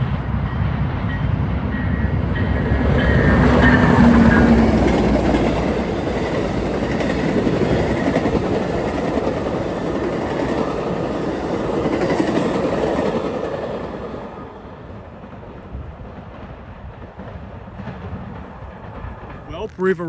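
A Floridian passenger train led by unit 301 with a Phase 7 P42 locomotive rolls by close and loud, its heavy rumble and clickety-clack of wheels swelling early and then easing off as it passes.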